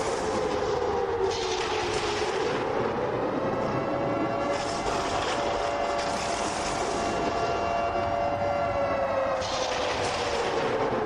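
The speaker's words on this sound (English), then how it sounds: "Let the siren play for the first time tonight" A stadium siren blares at a USFA football game between the New York Mafia and the Pittsburgh Roughnecks, holding a long wavering tone that rises and falls over steady crowd noise.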